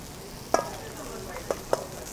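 A spoon stirs salted yogurt in a bowl for tzatziki, making a few soft, wet clinks and scrapes spaced apart against a steady background hiss.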